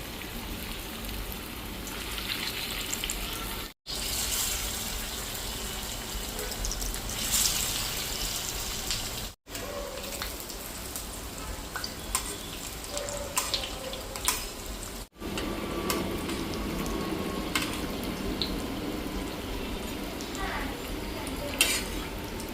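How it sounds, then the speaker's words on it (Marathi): Kothimbir vadi, coriander fritters, frying in oil in a frying pan, a steady broadband sizzle running the whole time with brief cuts and occasional soft clinks. "फ्राय पॅन मध्ये तेल घालून घेतले. आता याच्यात एक एक वडी आपण तेलात सोडूया."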